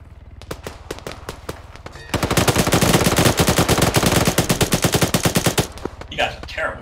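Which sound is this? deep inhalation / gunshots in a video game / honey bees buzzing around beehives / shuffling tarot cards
gunshots in a video game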